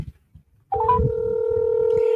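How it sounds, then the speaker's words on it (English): Telephone dialing tones come in as a quick rising blip and then settle into one steady, loud electronic tone that holds to the end, after a short stretch of near silence with faint low rumbles. "I'm getting Kifa on the phone here"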